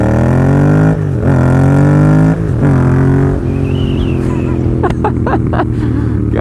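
A loud, raucous motorcycle engine revs close by in deep harmonic surges that rise and fall, with rapid throttle blips toward the end and a voice faintly underneath.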